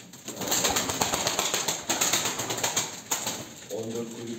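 Pigeons in a loft just after feeding, a busy flutter of wing flaps and soft cooing close by, with a voice talking near the end.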